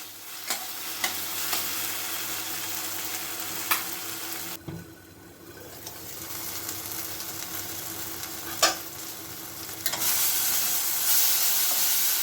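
Ginger paste and tomato sizzle in oil under a covered pan, a steady frying hiss broken by a few sharp clinks and a brief lull as the lid shifts.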